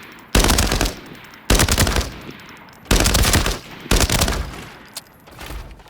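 Close, loud automatic rifle bursts from a T951 5.8×42 fired from the hip in the video game Arena Breakout Infinite: four long rapid strings of shots separated by short pauses, with a shorter fifth burst at the end.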